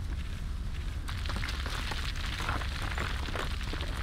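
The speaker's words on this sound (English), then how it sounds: "Fire shield." Fire shield spell cast in the fantasy role-playing game Might & Magic X: Legacy, a steady roaring whoosh of flames with crackling bursts that carries on loud for several seconds.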